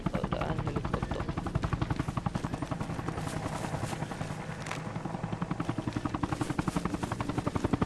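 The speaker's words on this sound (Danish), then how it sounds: "Og der er en helikopter." Helicopter in the video game Arma Reforger, its rotor beating in a steady rapid chop throughout, loud and near, alone without talk.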